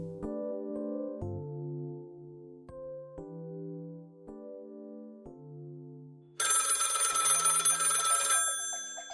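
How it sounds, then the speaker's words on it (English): A synthesized ringtone melody of sustained tones plays, then a harsh electronic telephone ring buzzes loudly for a couple of seconds and stops. "Phone rings."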